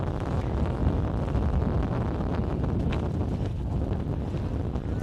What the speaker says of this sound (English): Wind certainly has picked up quite a bit this afternoon compared to this morning.